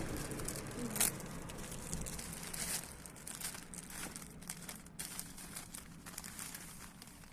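A plastic bag holding an already opened phone crinkles and rustles as it is unpacked up close, with a sharp crackle near the start and softer handling noises after.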